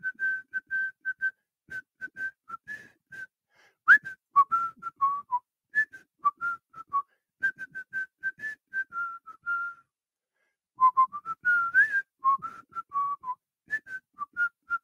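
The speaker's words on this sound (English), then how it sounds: "It's time to whistle us out of here for yet another day." A lone person whistles a short sign-off tune, clear and close, in bright phrases of quick notes separated by brief pauses, with no talking.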